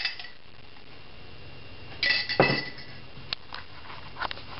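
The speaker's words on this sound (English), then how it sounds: "I'm going to just spoon that in." A metal spoon clinks and scrapes against a pan as oil is spooned in while making chipotle sweet potato hashbrowns, a few faint close taps over a quiet kitchen background.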